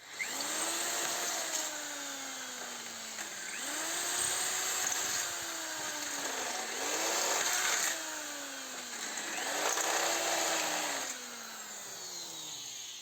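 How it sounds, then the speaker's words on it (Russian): An electric drill whines up and bores through metal four times in a row, through existing holes in a folding ladder under repair, each burst rising in pitch then dropping, with a steady high hiss underneath. "И просто струбцинкой притянули его и через готовые отверстия будем сверлить."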